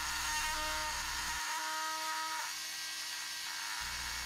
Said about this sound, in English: So I gave up on the grinder and went to my rotary tool. I chucked up a diamond cutting wheel and used it to rid me of the pesky roof.